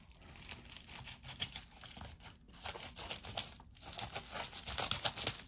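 Wrapping on a mailed package crinkles and tears as it is opened by hand, with bursts of crumpling and ripping, close and fairly quiet.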